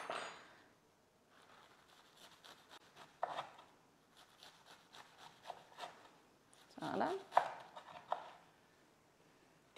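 A knife slices cold cuts for packed lunches, giving scattered soft scraping and cutting strokes on a board in a quiet kitchen, with a voice murmuring between them.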